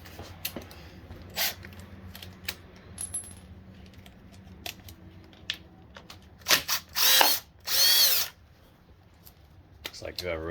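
A power drill with a Torx bit backs a bolt out of a 2016 KTM 350 XCF-W clutch cover. Two loud bursts of whirring come near the end, among scattered clicks and clinks of tools and parts.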